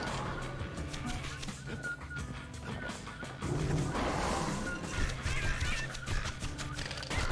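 Birds in the video game Bastion honk over dense game music and effects. The honks are repeated and mixed into a busy, steady soundscape, with brief clashing hits partway through.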